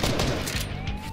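Sniper gunfire in a multiplayer video game, heard as loud, dense, continuous shooting that fills the moment with no talk over it.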